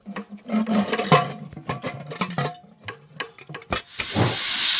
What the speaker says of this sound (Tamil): இன்னும் ஒரு விசில் வச்சு ஆஃப் பண்ணிவிட்டு